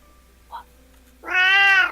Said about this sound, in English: I got all the cat noises on fucking video